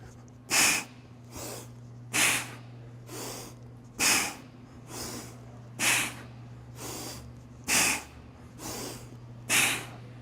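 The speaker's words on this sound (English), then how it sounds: "Breathe out at the bottom, breathe out at the top." Heavy, forceful breaths during kettlebell squats, with nine or ten sharp exhales repeating at a steady pace of about one per second, close and loud over a low background hum.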